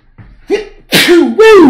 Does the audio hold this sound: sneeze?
yes